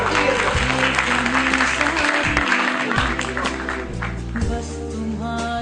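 An audience at a stage play applauds with a steady clapping wash over loud music with a sustained tonal backing, which nearly masks the clapping.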